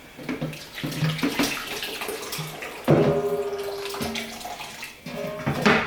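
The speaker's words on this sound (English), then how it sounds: "I'm going to scoop it into this pot, to which I'm going to boil." Thick German pilsner beer mash is scooped into a pot for decoction, making wet, close sloshing and scraping sounds with heavy splashy plops.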